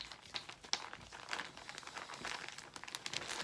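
Reusable vacuum bag for a stab layup being opened and handled, soft close crinkling and rustling plastic in irregular bursts, quiet and without talk.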